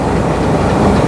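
A Pakistani passenger train hauled by a PH20 locomotive rumbles along steadily, with continuous loud wheel and carriage noise and no voices.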